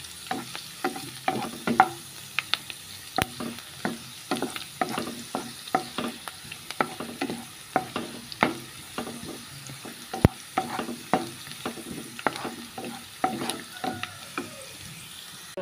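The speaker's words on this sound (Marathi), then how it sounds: "तुमगे लसूण भाजत येयल्या, मातशें ब्रावनीश जायत येयल्या" Garlic frying with lady finger in a pan, a low steady sizzle punctuated by rhythmic, repeated spatula scrapes and taps throughout, fairly close; no voices.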